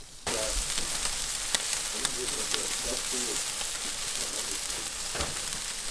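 Food sizzling on a backyard grill in Colorado, a steady, fairly quiet frying hiss that runs through the whole stretch with small crackles and pops.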